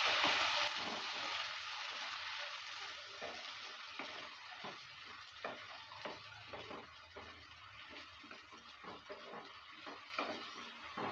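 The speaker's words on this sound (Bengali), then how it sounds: "পেস্টটা দেওয়ার পর নেড়ে চেড়ে নিচ্ছি।" A potato, pea and paneer curry with spice paste is stirred in a pan, with soft repeated scraping and gentle sizzling over a steady background hiss.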